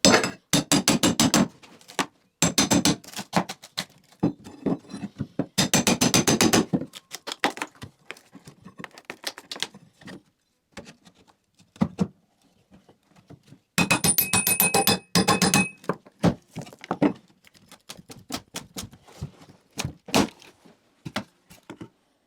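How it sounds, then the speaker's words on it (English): A crowbar works under a wooden floorboard, giving sharp, rapid clusters of cracking, tapping and creaking impacts that come in several dense bursts with quieter scattered knocks and pauses between them, close and without talk. "get the crowbar in, get the board lifted"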